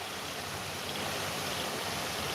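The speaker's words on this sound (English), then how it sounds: "the nice steady flow of water" Water runs steadily through a stream basin, making a continuous, even rush of broadband noise with no pauses or voices.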